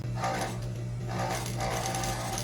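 A sewing machine stitching a seam on a silky strappy tank top, a steady mechanical hum with three quick bursts of rapid needle clatter, close and fairly quiet, no talking.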